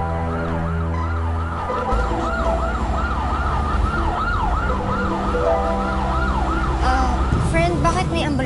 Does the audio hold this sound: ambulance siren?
yes